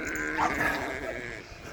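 Sheep on a farm give a faint, short bleat against a steady background hum, a little distance away, with no talk over it.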